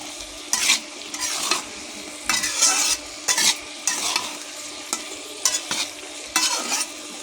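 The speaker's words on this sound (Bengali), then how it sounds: "আলুগুলো আমি লাল লাল করে ভেজে নেব, একটু পর আলু নেড়ে দিতে হবে।" Potatoes frying in oil with turmeric and salt, crackling and sizzling as a utensil stirs them in repeated bursts of scraping roughly every half second to second, close and clear with no talking.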